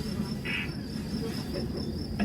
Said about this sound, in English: All set against a chorus of crickets.